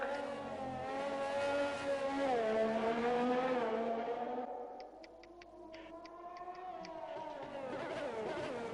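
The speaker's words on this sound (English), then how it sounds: "there's a Ferrari coming around the final corner" Ferrari race car in a racing video game sweeping around a final corner, its engine a steady high whine that rises and falls through the bend, fairly loud, then easing off with faint ticking before picking up again.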